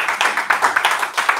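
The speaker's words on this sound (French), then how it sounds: "Applaudissons pour Jésus." A church congregation at a Sunday service claps together for Jesus in quick, fairly steady rhythmic bursts, close and lively, with no talking over it.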